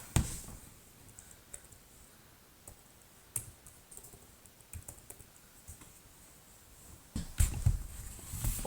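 Typing on the keyboard of a Lenovo 7 Slim Pro X laptop: soft, quiet key clicks in irregular bursts, with a few sharper taps and a louder flurry near the end, no voices.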